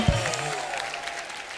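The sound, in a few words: applause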